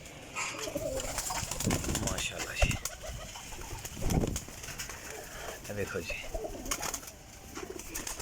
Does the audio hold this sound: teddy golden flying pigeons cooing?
yes